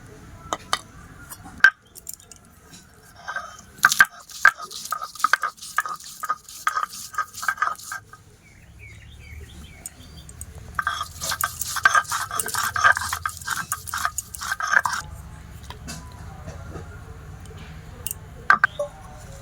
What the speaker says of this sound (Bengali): শিলে বেটে নেবো